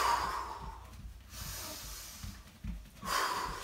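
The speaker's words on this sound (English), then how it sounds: "Take a breath." Heavy breathing and snorting exhales between kickboxing drills during a home fitness workout, with breaths at the start and end and quieter gaps between.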